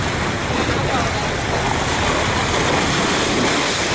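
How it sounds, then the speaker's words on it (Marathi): Continuous roar of sea waves and surf at Lisbon, Portugal, loud and unbroken, filling the whole stretch without a clear pause. "एवढ्या लाटा आहेत, आजपर्यंत येतात त्या."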